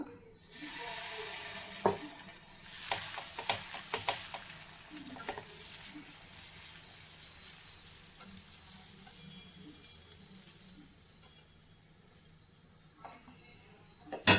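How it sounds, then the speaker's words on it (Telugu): Moong dal pesarattu batter cooking on a hot pan, giving a soft steady sizzle with scattered clinks and scraping strokes in the first half that fade to a quieter hiss, then a sharp knock at the very end. "ఇప్పుడు మనం ఇది పెసరట్టు వేసుకుందాం ప్యాన్ కాయిన తర్వాత"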